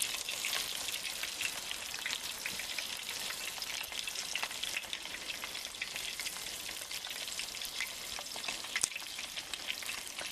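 Batter poured over browned sausages in a British Army mess tin on a camping stove sets off a dense, even frying hiss with fine crackling that continues without a break.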